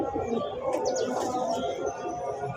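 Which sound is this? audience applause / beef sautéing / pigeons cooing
pigeons cooing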